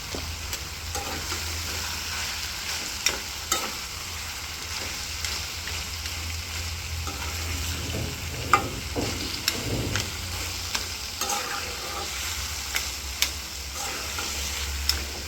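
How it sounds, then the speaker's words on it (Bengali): Olives for pickle are stir-fried with salt and turmeric in a pan, giving a continuous soft sizzle under repeated scraping clicks of a spatula at an irregular pace, close by and with no voices. "এর ভিতরে আমি এখন কিছুটা লবণ আর একটু হলুদ দিয়ে ভালোভাবে একটু কষাবো"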